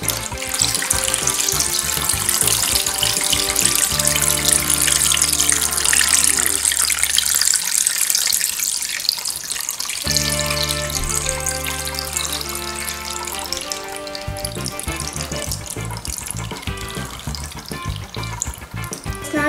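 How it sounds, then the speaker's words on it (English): Water pours steadily out of an Orbeez perfume maker into a bucket, a continuous close splashing gush that lasts throughout with only slight changes in flow. "I'm going to pour the water out of the perfume maker into this bucket."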